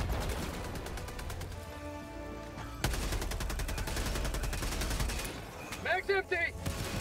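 Sustained automatic fire from a video game turret hammers away loud and close, briefly broken by a heavy blast. Voices cut in near the end amid the shooting.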